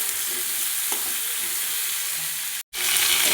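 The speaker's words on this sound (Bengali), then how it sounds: "উচ্ছের সঙ্গে সমস্ত সবজি লবণ হলুদ দিয়ে ভালো করে ভেজে নেব।" Bitter gourd and mixed vegetables fry with salt and turmeric in a pan, giving a steady, close, continuous sizzle with faint stirring scrapes and a momentary break near the end.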